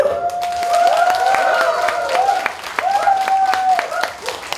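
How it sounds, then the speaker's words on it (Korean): Audience clapping at a live Korean stage performance, brisk applause under a voice that sings or calls out over it throughout. "박수!"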